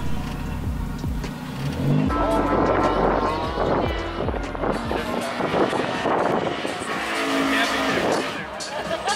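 A Genesis car lapping a race track during a track day, heard from outside: engine drone rising and falling as it passes, with tire squeal and wind noise, and people talking faintly in the background.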